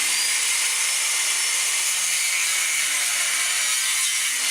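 A cutting tool slicing a hatch opening into a vintage caravan's steel frame, a loud steady hiss and grind held without a break, close and alone.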